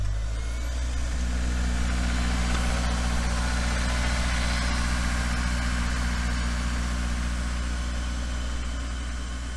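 A Honda S2000 AP2 engine idles steadily with a smooth, even low hum, close and unchanging throughout.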